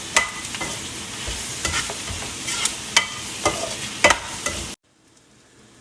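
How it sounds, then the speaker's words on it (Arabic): Close sizzling in a frying pan as tomato paste is stirred, with repeated scraping strokes of the spoon over the hot fry, cutting off abruptly into near silence at the end. "نحط معجون الطماطم، طبعا واحده كامله. نقلبهم كده دقيقه."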